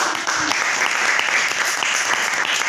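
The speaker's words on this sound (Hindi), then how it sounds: "मेरी सीनियर मेरी अपलाइन कामड़े ताई, इनके लिए मैं एक बार जोरदार ताली।" A seminar audience claps loudly in dense, continuous applause that holds at an even level from start to finish.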